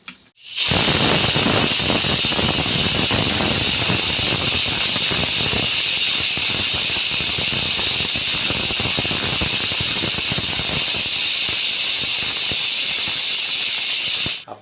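A pressure cooker on a kitchen stove, used while cooking a jackfruit curry, lets out a loud, steady, high-pitched steam whistle and hiss that holds unbroken for about fourteen seconds with no talking over it.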